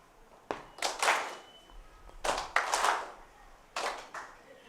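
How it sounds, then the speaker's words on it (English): Short bursts of group clapping from a women's sevens rugby squad during a warm-up bounce-the-ball game, three separate spurts of hand claps spaced about a second apart, fairly close and otherwise quiet between them. "when I bounce the ball, you're going to clap"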